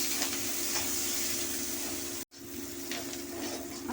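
Chopped onion frying in hot oil with a bay leaf and cumin seeds, a steady close sizzle and hiss that cuts out for an instant, then resumes with light stirring crackles; no talk.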